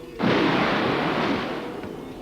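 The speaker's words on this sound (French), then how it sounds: "Quelques secondes plus tard, l'obus éclata dehors." An artillery shell explodes outside as a sudden loud boom that breaks in abruptly and then decays into a long rumbling roar, with no voices over it.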